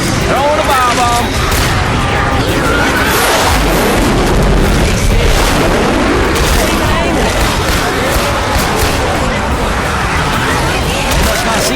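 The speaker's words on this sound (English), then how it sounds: "Throwing a bomb." Bomb thrown and exploding in Left 4 Dead 2, heavy booms and bursts inside a dense, loud wall of gunfire, zombie noise and chaos, with voices talking over it.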